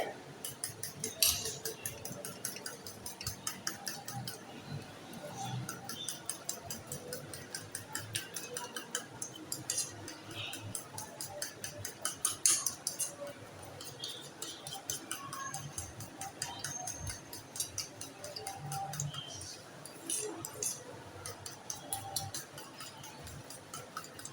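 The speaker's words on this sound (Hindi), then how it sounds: "अब हम इन दोनों को अच्छी तरह से मिक्स कर लेंगे।" A spoon stirs cream and mayonnaise together in a bowl, giving a quiet, close, rapid run of light ticking and clinking scrapes that continues throughout.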